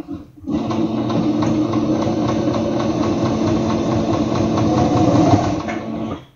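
A Singer Starlet 6680 sewing machine's small motor, run by its foot pedal, whirs steadily with a rapid mechanical chatter, starting abruptly and running at constant speed for several seconds before cutting off.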